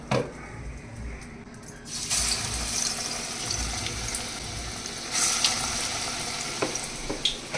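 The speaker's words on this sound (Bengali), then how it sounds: "এবার বড় বড় পেঁয়াজি আকারে বড়াগুলো ভেজে নেব" Ground lentil fritters (bora) seasoned with black cumin and turmeric frying in hot oil, a continuous close sizzle with a louder surge partway through and a few small knocks.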